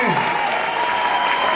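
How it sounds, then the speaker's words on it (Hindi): Loud applause from a seminar audience asked to clap while standing, a brief dense burst of clapping with a voice briefly audible at the start. "एक बार जोरदार तालियां खड़े होकर के कर सकते हैं।"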